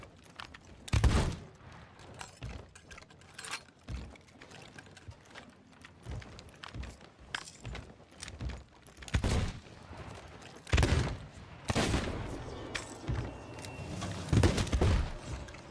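Scattered booming cannon shots in a video game go off in irregular bursts, some close together, with quieter stretches between them.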